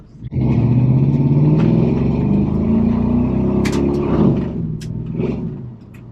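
A 1986 Chevrolet C10 pickup truck with a swapped LS engine drives along at a steady mid-range drone, the note swelling and easing slightly with a few light knocks and rattles over bumps.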